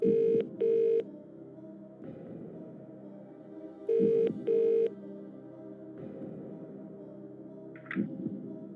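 In the Who Wants To Be A Millionaire PS2 game, a phone-a-friend call is placed: two short bursts of dialing tones, then a low ringing tone, repeated twice, with a small blip near the end; no voices.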